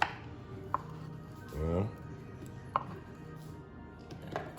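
Knife chopping ingredients into regular chunks for a meatless Jamaican liver-and-kidney style breakfast, with a few sharp, sparse chops spaced about two seconds apart and a brief scraping sweep in between, no talk.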